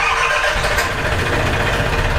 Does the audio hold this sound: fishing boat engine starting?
yes